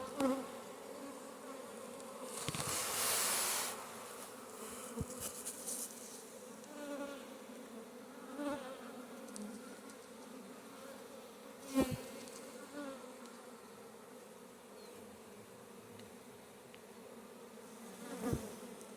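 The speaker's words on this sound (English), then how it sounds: "there's an awful lot of bees in here" Many honeybees crowd a newly populated hive, filling it with a continuous low droning hum, fairly quiet and close, with occasional louder buzzes as individual bees pass near.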